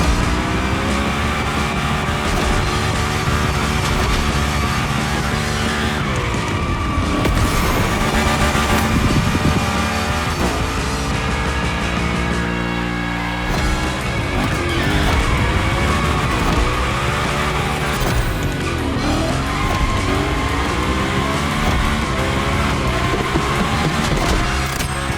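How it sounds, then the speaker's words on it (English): A Hoonigan car drives a gymkhana course in The Crew Motorfest, its engine roaring loud and unbroken while tires squeal and skid through repeated slides, with revs rising and falling between tricks. "The Hoonigan, that's a tire-slaying monster."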